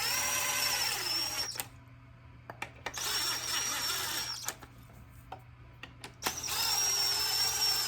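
A power driver runs in the head gasket bolts on a Kohler Command engine of a Cub Cadet tractor in three loud, whining bursts of a few seconds each, separated by quiet gaps with small clicks.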